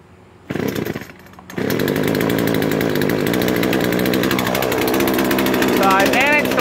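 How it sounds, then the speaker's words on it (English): A chainsaw being started while cutting a tree: a brief pull-start burst, a moment of quiet, then the engine catches and runs loud and steady close by, rising in pitch near the end. "So I managed to learn how to work the chainsaw, at least get it started easily."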